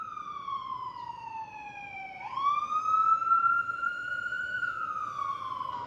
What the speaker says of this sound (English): I have been hearing sirens repetitively.